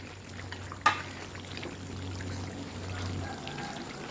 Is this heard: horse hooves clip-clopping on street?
no